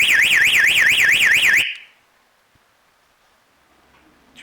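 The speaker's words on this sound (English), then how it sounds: "Check that the flashing alert alarm is working." A flashing alert alarm for railroad conductors sounds a loud, rapidly warbling electronic tone that cuts off abruptly, leaving near silence with faint small noises.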